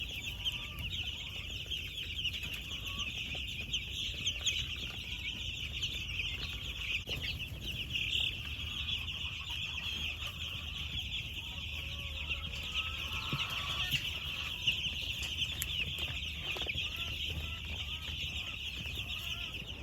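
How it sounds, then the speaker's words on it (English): Some 300 baby chicks in a brooder, a dense continuous chorus of high peeping that stays steady and fairly close throughout, with faint shuffling underneath. "this one is full of 300 baby chicks"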